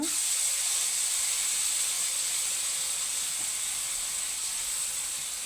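A loud, continuous hiss of sambal frying in a hot pan, steady from start to finish with no voices.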